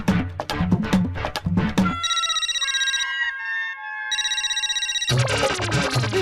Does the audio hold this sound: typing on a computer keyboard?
no